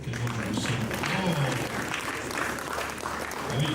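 Applause from a conference audience at a business forum, a dense steady patter of clapping that swells slightly toward the end, with a voice talking over it.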